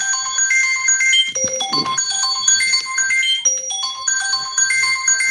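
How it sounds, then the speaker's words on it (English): A phone ringtone for an incoming call plays loudly and alone, a bright repeating melodic pattern of electronic tones that continues steadily for several seconds. "Got a phone call"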